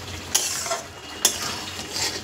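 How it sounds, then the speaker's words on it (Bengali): Egg tadka is stirred in a pan at a dhaba-style cook, with a soft sizzle under two sharp scrapes of a utensil against the metal, close and brief. "দিয়ে একটু ভালো করে নাড়াচাড়া করবো"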